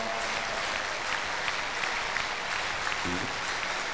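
Congregation applauding at a crusade healing service, a steady wash of clapping filling the whole clip with some voices mixed in.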